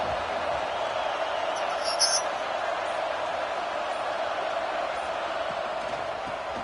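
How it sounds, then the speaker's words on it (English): Steady stadium crowd roar from the video game College Football NCAA 26 during a USC versus Ohio State game, a loud continuous wash of noise that holds level throughout under broadcast commentary. "Listen to this crowd just shaking the girders of this place, trying to help their defense."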